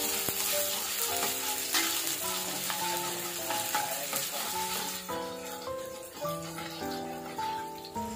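Shallots sautéing in a non-stick wok give a steady, close sizzle and crackle of frying, with faint stirring, set under a bed of background music.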